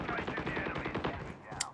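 Rapid automatic gunfire in the COD Mobile video game, a quick close burst of shots running throughout with game voice sounds mixed underneath.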